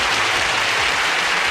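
Steady applause sound effect from the video game Deathbulge, a dense, even wash of clapping that stays at one level from start to finish, loud and without speech.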